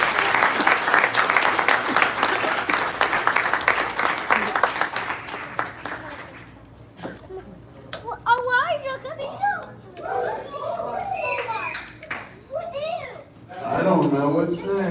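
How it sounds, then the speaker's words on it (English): Applause for a couple at a wedding-style celebration, dense clapping for about six seconds, then dying away into scattered claps while children and adults chatter nearby. "Please join me in a round of applause for these two absolutely wonderful people."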